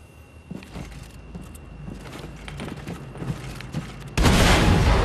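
A grenade explodes in the shooter Wolfenstein II: The New Colossus, a sudden loud boom that hits near the end after scattered thuds and rumbling game effects.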